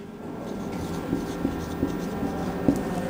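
Words being handwritten during an English lesson on colour words: a few faint, scattered scratching strokes over a low steady room hum, with no talking.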